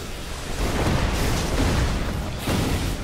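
A loud, rumbling explosion in the video game Borderlands 2, a broad roaring blast that fills the whole moment with a second swell near the end.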